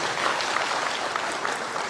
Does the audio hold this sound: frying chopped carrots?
no